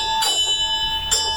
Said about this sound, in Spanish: La campanilla sonó